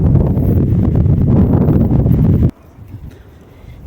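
Strong sea wind buffets the microphone in a loud, steady roar at Punakaiki on the New Zealand coast, then cuts abruptly to a much quieter outdoor background.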